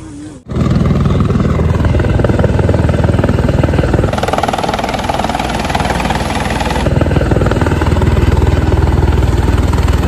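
A helicopter roars loudly and close, its engine and rotor a constant heavy drone that swells briefly partway through.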